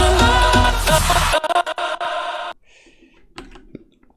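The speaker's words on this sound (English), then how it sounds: "And then we have the big snare and this drum fill here." Dense bigroom electronic music cuts out, followed by a few sharp big snare hits and a quick choppy drum fill, then near silence with scattered faint hits.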